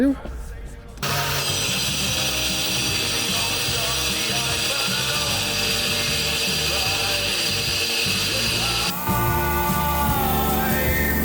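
Crown CT-12325-25 wall chaser cutting a 29 mm deep groove in a wall, a loud steady high grinding whine with rough cutting noise that holds for about ten seconds after a brief start.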